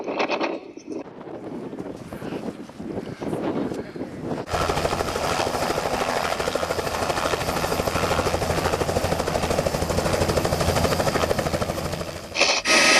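A helicopter engine roars steadily and loudly, building from a quieter whine into a dense, continuous rotor drone that fills the clip as it lifts off over ice.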